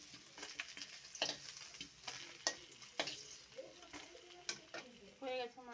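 Pieces of fish fry in hot oil with a soft, continuous sizzle, punctuated by scattered clicks and scrapes of a utensil turning them in the pan, heard quietly and up close.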